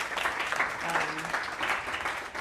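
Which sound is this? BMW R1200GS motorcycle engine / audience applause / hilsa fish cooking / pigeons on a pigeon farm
audience applause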